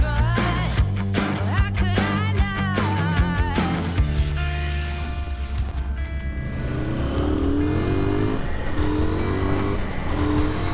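A KTM 990 Duke R motorcycle engine revs hard on a test ride, its pitch climbing and dropping through repeated throttle blips and sustained pulls. It stays loud and close throughout, with no talking.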